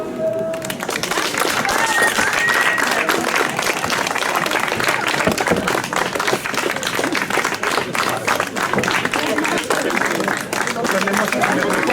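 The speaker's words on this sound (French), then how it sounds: "applaudissez la comédie" A dense, loud round of applause from a theatre audience after a comedy performance, with clapping continuing steadily throughout and a few voices mixed in.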